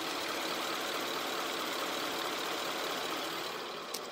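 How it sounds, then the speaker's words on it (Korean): V8 idle of a Lexus-style luxury sedan (VS500) with the engine bay open, a smooth, quiet, continuous hum heard alone. "엔진 소음 먼저 들려드리면은"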